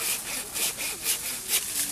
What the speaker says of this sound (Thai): ถ้ากิ่งไหนใหญ่เราก็ใช้เลื่อยนะครับ